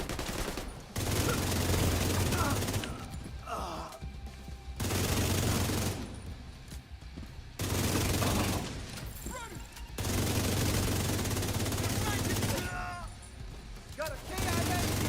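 Bursts of automatic gunfire in a video game, several loud volleys of a few seconds each separated by short quieter gaps, with speech heard in between.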